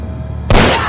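A single sharp gunshot cracks out after a quiet moment, loud and close, followed by a short ringing decay.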